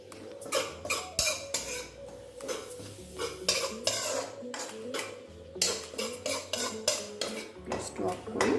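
A spoon scrapes and stirs a thick besan-atta laddu mixture around a metal pan, with repeated rhythmic scraping strokes and clinks, close and fairly loud, with no voice present.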